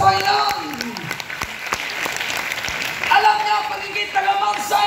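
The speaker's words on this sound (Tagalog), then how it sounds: "Pumalakpak ang masaya sa Panginoon." Congregation clapping during an anniversary church service in Batangas City, with sustained keyboard-like music tones running through and a voice in the mix; the claps are scattered and moderately loud.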